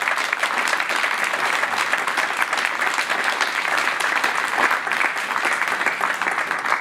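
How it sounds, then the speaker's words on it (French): An audience claps in a thunderous, sustained round of applause, dense and even throughout, with no voices rising above it. "je vous demande un tonnerre d'applaudissements"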